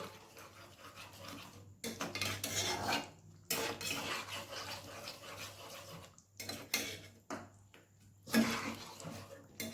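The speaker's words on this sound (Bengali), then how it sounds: "এরপর আমি একটু ভালোভাবে নাড়াচাড়া করে নেব।" Chicken korma gravy thickened with cashew paste is stirred in a pan, with close metallic spoon scrapes and clinks against the pan in bursts separated by short pauses, no talk.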